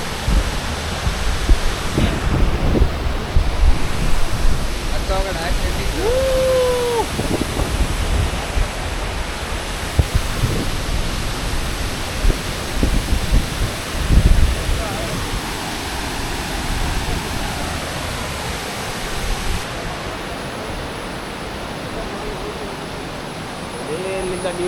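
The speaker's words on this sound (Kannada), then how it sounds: "ಇದುವೇ ಫಾಲ್ಸ್, ನಮ್ಮ ಕೈಲಾಸಂ ಫಾಲ್ಸ್" Kailasam falls in the Sholayar forest range pours down with a constant, dense roar of water, close and loud throughout, with a couple of faint bird calls and brief knocks over the rush.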